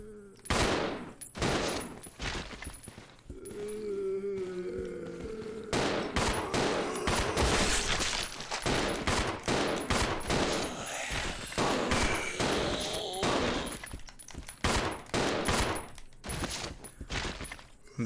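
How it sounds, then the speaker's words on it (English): Gunfire in the survival horror game Resident Evil 0, a dense run of loud repeated shots with sharp bursts, mixed with game sounds and brief voices. "That's all our bullets wasted."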